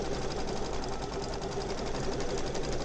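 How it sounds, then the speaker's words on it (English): An embroidery sewing machine runs a satin stitch around a patch in its built-in frame, a rapid, even mechanical whir with a fast repetitive needle rhythm, steady and close. "It's now doing the satin stitch around it"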